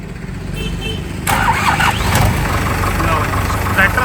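A Powertrac Euro 60 tractor engine cranks and catches about a second in, then settles into a steady low idle rumble that runs close by.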